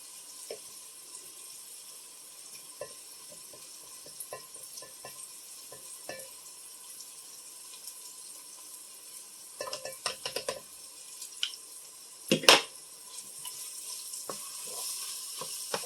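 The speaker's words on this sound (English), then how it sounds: "Mix up your beef with the onions thoroughly." Beef and onions fry in a Dutch oven with a soft, steady sizzle, broken by scattered clinks and scrapes of a spoon against the pot. A burst of louder stirring comes near the end.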